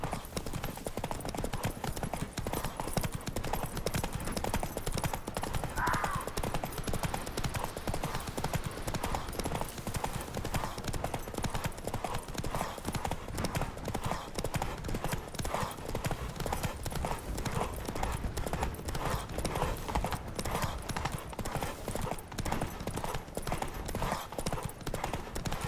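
Roach, a horse in The Witcher 3, trots with a steady, continuous rhythm of close clip-clopping hoofbeats throughout, with faint background game ambience.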